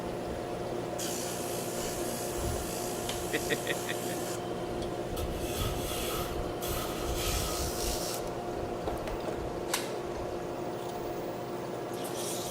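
Wood being sanded by hand with sandpaper while making drop spindles: a steady, continuous rasping rub that runs throughout at a moderate level, with a few brief clicks and knocks.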